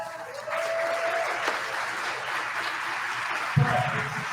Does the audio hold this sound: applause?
yes